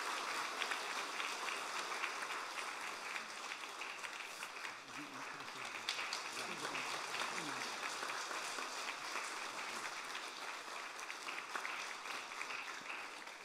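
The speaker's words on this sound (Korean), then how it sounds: "큰 격려, 축하 박수 한번 주시면 감사하겠습니다" Church congregation applauding during a Sunday worship service, steady dense clapping that lasts throughout, heard at a distance with a faint voice beneath.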